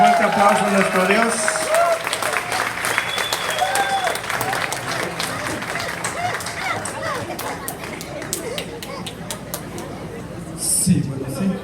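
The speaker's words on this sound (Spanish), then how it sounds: "Dale un fuerte aplauso a nuestro Dios." A church congregation applauds God, with sustained clapping and crowd noise that stays strong and slowly thins toward the end, while voices talk over it at the start.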